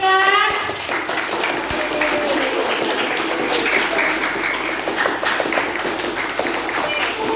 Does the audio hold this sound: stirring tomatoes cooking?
no